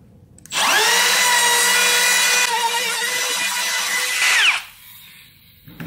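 A high-pitched router whines steadily as it cuts into a wooden door for several seconds, then winds down with a fading hum.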